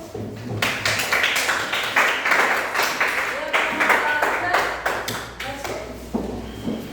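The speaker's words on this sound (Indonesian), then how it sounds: "Tepuk tangan dulu." A group claps together in a room after a greeting, a loose patter of hand claps running throughout, mixed with voices talking over it.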